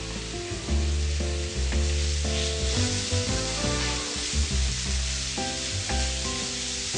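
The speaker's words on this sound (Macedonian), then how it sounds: "И го ставаме месото да се пропржи." Meat hisses and sizzles loudly in olive oil on a hot grill, a steady close crackling spatter with occasional stirring, no voices.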